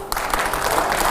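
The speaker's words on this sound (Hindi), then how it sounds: "जोरदार तालियां हो।" A short burst of loud audience applause during a televised Indian political interview, breaking in abruptly and then holding as a dense, steady wall of clapping for about a second.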